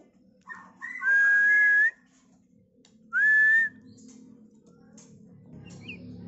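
A caged, molting songbird whistles loudly in two bright, rising phrases separated by a pause, with faint low background noise between.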